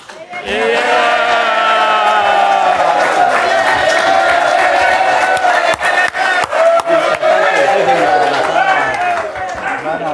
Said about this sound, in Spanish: les reiteramos un aplauso y una fafán